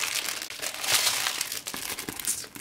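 Crinkly plastic film and paper wrapping rustled and crumpled up close as board game pieces for Picmondoo are unpacked, a dense continuous crackle.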